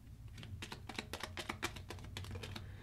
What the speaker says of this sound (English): New round or new turn, so gotta shuffle the crit deck.